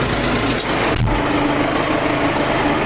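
A new MTZ tractor engine runs steadily after starting, giving a loud, close, continuous mechanical drone with a couple of brief clanks near the start.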